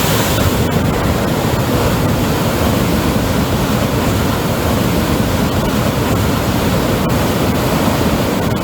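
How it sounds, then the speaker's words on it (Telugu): Water from the Sitarama project pipes gushes out during a midnight motor trial run, a loud, steady broadband roar of rushing flow that holds without a break. "పైపులంగా నీళ్లు వదిలిపెట్టంగానే బుస్తున పొయ్యి మీద పెట్టిన పాలు వంగినట్టే అనిపించింది"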